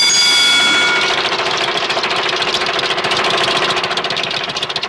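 A boat's engine runs steadily and loudly throughout, a continuous mechanical drone with a busy rattling texture and a brief higher tonal whine at the start, with no talking.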